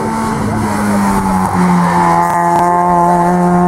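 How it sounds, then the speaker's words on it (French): A Peugeot 106 S16 Group N rally car engine screams at high revs close by during a hill climb, holding a sustained, strained whine with brief shifts in pitch as it pushes on. "au départ de Mehdi Boumdad avec la 106 S16 dans la catégorie des 100 du groupe N."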